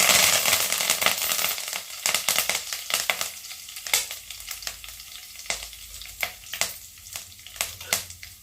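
Two sprigs of curry leaves hit hot oil for a tomato egg fry, giving a loud crackling sizzle that settles into scattered sharp pops and spits.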